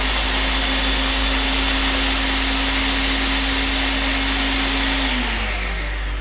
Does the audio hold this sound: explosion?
no